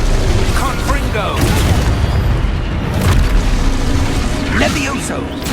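Confringo blasting spells burst in Hogwarts Legacy, with several loud booming explosions and crackling impacts over a constant roar of game noise, and a voice heard through it.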